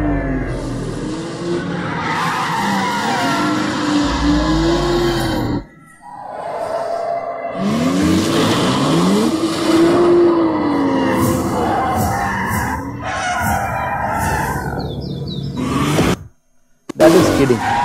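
A car skids with screeching tires and engine noise, bursts of squeal and whooshing broken by brief silences, fairly loud and close.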